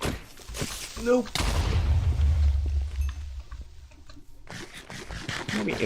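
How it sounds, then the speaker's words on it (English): A charged creeper explosion in the Minecraft modpack Chaoskraft 2 lands as a deep, loud boom with a rumbling tail lasting a few seconds, with someone talking before and after it. "Maybe it is a regular charge creeper explosion"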